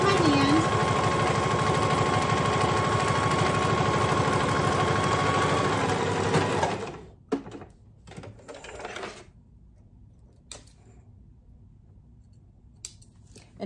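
A sewing machine hums and clatters steadily as it tacks Velcro onto a reusable Swiffer pad, then stops abruptly and leaves quieter handling noises and brief clicks.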